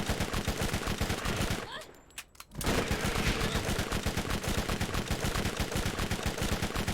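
Rapid rhythmic gunfire from Borderlands in a fight with Sledge, a steady stream of loud shots broken by a brief lull before the firing resumes just as fast.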